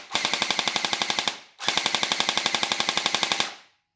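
An M4A1 gel blaster fires on full auto in two fast bursts of about twenty sharp, evenly spaced shots each, loud and close, with a short pause between and a brief motor wind-down after each.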